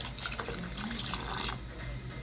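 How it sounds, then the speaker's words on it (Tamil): Water poured into a pot of Muslim-style mutton head gravy as the meat is set to cook, a short, steady, soft splashing stream close by. "இப்போ நம்ம இன்னும் கொஞ்சம் தண்ணி சேர்த்துக்கலாம் கறி வேகிறதுக்கு."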